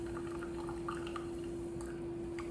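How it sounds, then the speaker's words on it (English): Sparkling water is poured into muffin batter in a home kitchen, with soft splashing and dripping under a steady low hum. "we are going to do 3/4 cup of sparkling water to make up for the rest of the liquid"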